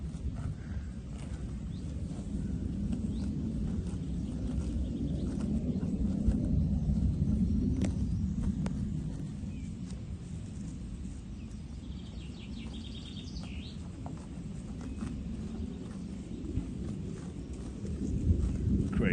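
Cows graze in a Dutch pasture, tearing grass close by. The ripping and crunching bites repeat over a low, steady background rumble, with faint birdsong now and then.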